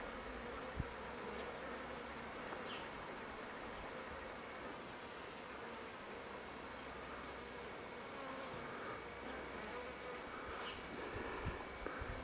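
A swarm of bees buzzes steadily around a garden, a low continuous hum with a few louder insects passing close by, over faint background traffic.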